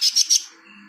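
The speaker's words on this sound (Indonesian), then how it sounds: "Burung." A songbird sings three quick, bright chirps in fast succession, close and clear, then falls silent under faint background.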